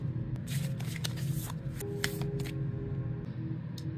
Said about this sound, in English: I will get some cards laid out for everyone to choose their pile